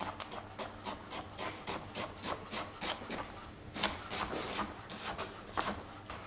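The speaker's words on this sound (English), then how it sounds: "I'm just going to shred it nice and finely." Cabbage-like vegetable, quartered and cored, shredded finely by hand with a knife for a beetroot chilli, giving a steady run of quick, close rasping cuts, evenly paced over a low background hum, with no speech.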